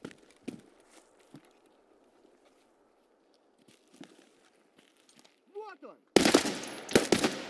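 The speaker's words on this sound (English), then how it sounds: "Who was shooting at me?" Gunfire in a video game, sparse distant cracks and thuds at first, then a loud burst of rapid shots close by at the end, with a voice speaking briefly.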